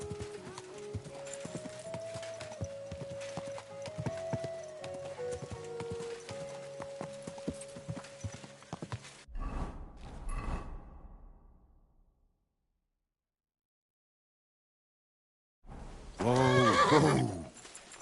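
Hooves clip-clop steadily in the video game Kingdom Come Deliverance 2 under light game sounds, then go quiet, and a loud close horse whinny follows near the end.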